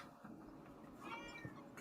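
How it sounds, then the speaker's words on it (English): A cat meows once, a short rising-falling call indoors, fairly faint and close, with no talk over it. "I heard a meow."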